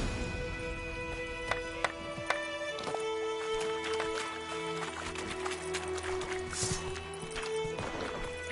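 Horse galloping in the fantasy game NikVerse: a steady run of hoof clip-clops, fairly close, under a sustained musical tone, with a few sharper clicks early on.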